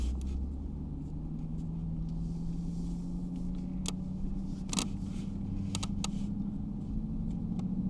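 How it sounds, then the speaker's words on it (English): 2021 Mercedes-Benz G63 pulling away in drive, a low steady engine hum whose pitch climbs slowly as it moves off, with a few faint clicks and ticks from the cabin. "we'll go ahead and put it into drive. Let's go take it out for a spin,"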